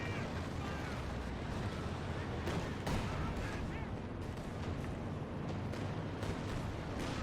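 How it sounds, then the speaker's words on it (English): Katyusha rocket artillery strike in Company of Heroes 2, a 4v4 match on Hill 400: a dense, rumbling barrage of blasts and whooshes rolls on continuously, with a few sharper impacts standing out from the roar. "Katusha comes on in, driving the infantry back"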